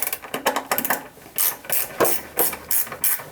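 A wrench with a ratcheting end loosens servo motor bolts in a tight spot on an industrial machine, giving close, crisp bursts of ratchet clicks in quick back-and-forth strokes.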